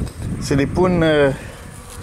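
Honeybees buzz near a hive as a beekeeper handles the frames. The buzzing is close and mixes with a man's brief speech.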